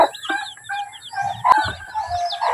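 A hen with three chicks makes loud, close clucks and calls alongside high chick peeps, with a rooster-like cry rising near the middle and no talking.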